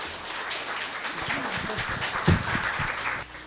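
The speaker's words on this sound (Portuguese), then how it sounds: "Nós vamos pedir nesse instante, mais uma vez, uma salva de palmas para Gilvanise, acolhendo-a carinhosamente." An audience at a spiritism talk in a Livraria Cultura bookstore gives a round of applause for a speaker, dense steady clapping from a nearby crowd with a few louder thumps near the end.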